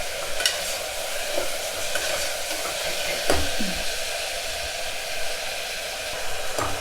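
Onion and tomato sautéing in oil for a Tamil mutton bone curry, a steady close hiss of frying with occasional stirring scrapes and clicks, continuous throughout with no talking.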